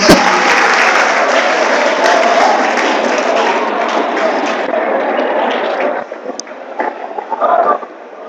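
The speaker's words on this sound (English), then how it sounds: "Clap your hands." An audience at a mentorship and career talk claps in a dense, loud burst that gradually thins and fades, leaving scattered claps near the end.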